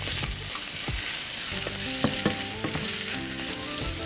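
Peppers and garlic fry in a pan with a continuous hiss, while a spatula pushes them around in repeated scraping strokes and light taps, close up with no talk.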